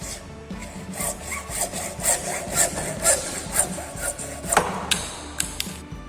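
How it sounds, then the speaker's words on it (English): A hand saw cutting through PVC pipe into short pieces, rapid rhythmic back-and-forth rasping strokes close up, ending with a few scraping sounds and light clatter as the cut finishes. "So we are going to cut 6 pieces of 6-inch each here."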